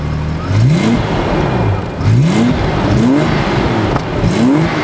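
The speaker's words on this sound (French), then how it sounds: "Tout en douceur, écoutez-moi ce démarrage." A 1989 Jaguar XJS V12 engine revving close by, with several rising blips of the throttle separated by brief dips back toward idle, loud and without talk.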